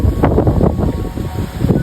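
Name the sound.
strong storm wind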